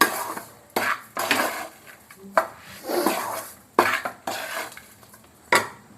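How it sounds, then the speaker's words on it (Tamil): Roasted flattened rice (aval) being mixed with a little water into a thick kozhukattai dough in a bowl, heard as a series of close scraping, clinking spoon-and-bowl stirring strokes at irregular intervals with no talk. "நாம் வறுத்த அவுளில் கொஞ்சமாக தண்ணி சேர்த்து கொழுக்கட்டை பதத்துக்கு நாம் கலந்துக்கலாம்."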